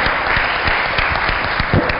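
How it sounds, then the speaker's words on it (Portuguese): Loud, close applause from an audience at a public event with a mayor, dense rapid clapping sustained evenly through the whole short stretch with no voices over it. "Vamos aplaudir a Mirelle!"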